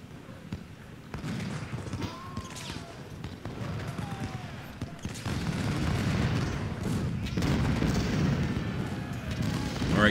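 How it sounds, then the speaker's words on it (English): Rifle volleys in the Ultimate General: Civil War strategy game, repeated muffled cracks and distant booms rolling in a steady battle din, moderately quiet, with a voice talking over it at times. "We're still going to keep firing at Terry"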